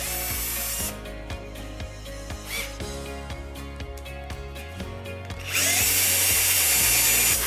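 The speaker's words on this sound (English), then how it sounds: "this cheap drill I've had for 5 years decided to burn out" A cheap power drill about five years old, burning out while working on a broken guitar, whirring steadily with repeated short clicks and hums, then louder with a harsh hissing roar toward the end; no speech.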